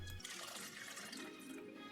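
Water poured from a tap into a medium saucepan on the stove, a short, faint, steady rush of running liquid.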